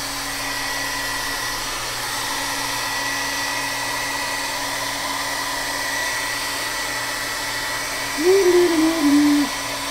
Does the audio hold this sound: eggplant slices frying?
no